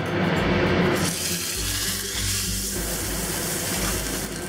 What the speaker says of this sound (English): So let's put the salmon fillet skin side down.